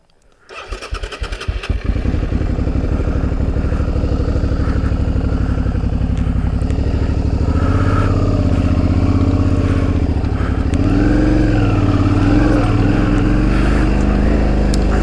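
A Suzuki V-Strom DL650 motorcycle fitted with a 21-inch front wheel climbs a hill, its engine firing up and then droning loud and close, revs rising and falling as it works up the slope.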